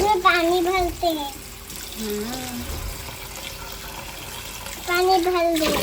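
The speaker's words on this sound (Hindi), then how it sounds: "पानी भर दो।" Tap water runs steadily into a container in a home kitchen, a constant wash of splashing flow beneath people talking.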